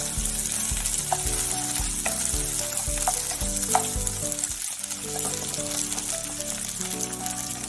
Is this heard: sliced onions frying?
yes